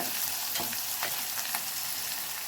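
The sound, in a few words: stirring turmeric into sizzling frying pan mixture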